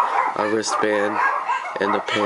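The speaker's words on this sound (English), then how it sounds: "Sorry about the dogs barking." Household dogs bark in the background while someone talks over them, a handful of sharp barks in short bursts.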